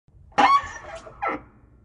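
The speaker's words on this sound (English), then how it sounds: "Open the door." A door swings open with a short, high squeaky creak, followed by a second, briefer creak a moment later. Both are close and clear against a quiet background.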